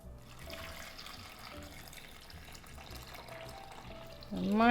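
Four cups of water are poured into a blender for vegan sugar-free BBQ baked beans, a faint steady splashing trickle that swells louder near the end.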